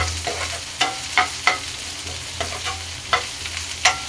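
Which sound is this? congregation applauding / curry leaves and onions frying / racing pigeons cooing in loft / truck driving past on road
curry leaves and onions frying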